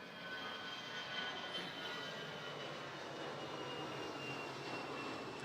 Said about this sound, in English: I'm going to let the plane go.